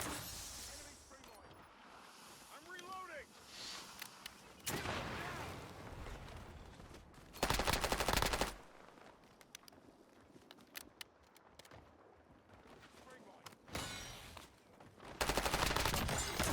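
Automatic and rapid gunfire erupts in repeated loud bursts during a Warzone match, with quieter stretches of game noise between volleys and a voice talking in places.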